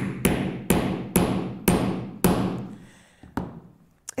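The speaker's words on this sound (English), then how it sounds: "and then just carefully with the hammer." A hammer taps a metal fastener onto a bag flap with five firm, evenly spaced knocks, followed by a few lighter taps, close and clear with nothing else around.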